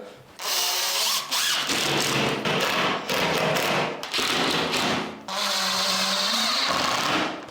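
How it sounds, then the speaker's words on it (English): Power drill driving a screw into a board while fitting a piece against a joist line, a loud steady whir in several bursts separated by short pauses, close by with no talk. "I can just screw it in."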